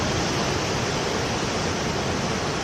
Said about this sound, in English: look at the waves though